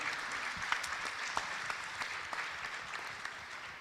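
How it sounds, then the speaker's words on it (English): An audience at the Innovation Summit, a business festival event, applauds the panel with steady, moderate clapping and a few sharper individual claps standing out. "A round of applause for the panel."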